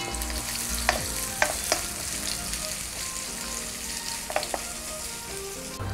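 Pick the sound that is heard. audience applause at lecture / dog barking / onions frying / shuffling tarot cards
onions frying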